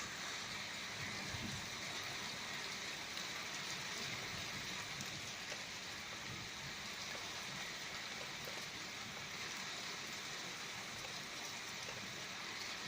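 Heavy rain from a violent thunderstorm pours steadily onto concrete outside a window, a dense, unbroken hiss with no distinct thunder claps.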